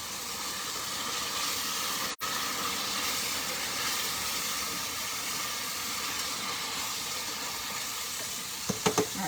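A steady, loud hiss of onion frying in a skillet, broken by a brief dropout and followed by a few light clinks near the end, with no talking.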